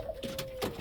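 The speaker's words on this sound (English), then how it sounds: "We have Cookie, the Belgium homer, sitting on a nest" A Belgian homer pigeon sitting on its nest gives a brief soft coo, quiet and close, with faint indoor background noise.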